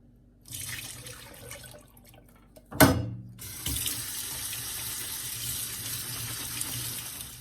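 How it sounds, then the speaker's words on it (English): Canned chickpeas are rinsed under a kitchen tap: water runs softly into the sink, a sharp metallic clunk cuts in, then a stronger, steady gush of running water continues to the end, with no talking. "drain and rinse a can of chickpeas"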